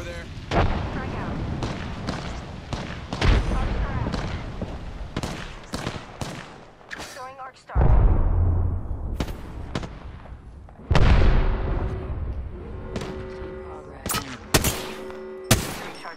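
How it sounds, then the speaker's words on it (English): Gunfire and explosions in the video game Apex Legends come as sharp, repeated shots and heavy booms in clusters across a long, busy firefight, loud and close. "Shots fired, and they're hitting me."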